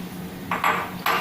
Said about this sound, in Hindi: अब हम इस गुड़ को भी उसी में इमली में डाल देंगे।